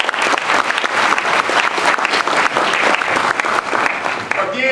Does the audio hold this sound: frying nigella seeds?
no